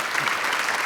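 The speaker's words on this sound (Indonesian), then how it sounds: "Ini luar biasa, beri tepuk tangan buat Deswin dong." Steady applause from a stand-up comedy show audience, a dense wash of clapping hands at even loudness throughout the short moment.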